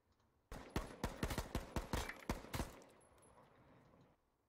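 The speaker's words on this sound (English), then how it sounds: "you can also hear his rate of fire increasing at the end to just get that hit." Video game gunfire comes as a burst of about a dozen loud, close shots that speed up toward the end, then a fading echoing tail and quiet.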